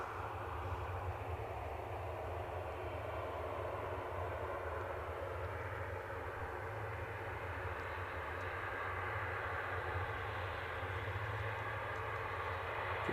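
A turboprop airliner taxiing at Aberdeen airport, heard from a distance as a steady, continuous engine drone with a low rumble, even in level throughout with no voices.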